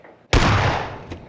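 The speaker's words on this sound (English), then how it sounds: "I can hear where is the gunshot coming from" Gunfire from a shooter video game heard through Razer headphones: a single sudden loud blast that decays over about a second, with a faint later crack.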